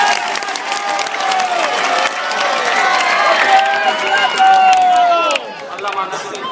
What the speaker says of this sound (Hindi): दोनों हाथ उठा के ताली बजाओ जोर से